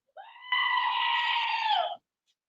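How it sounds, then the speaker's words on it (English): A screaming goat sound effect: one loud, close, human-like bleating scream lasting about a second and a half, rising briefly before settling into a sustained cry that cuts off abruptly. "Let's do Screaming Goat."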